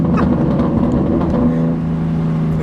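A loud BMW G80 M3 engine rumbles close by, deep and steady, with a brief rise in revs early on before settling into a heavy idle.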